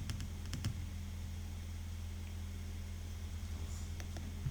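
A few scattered keystrokes on a computer keyboard as a date is typed into an Excel spreadsheet cell, light clicks over a steady low hum.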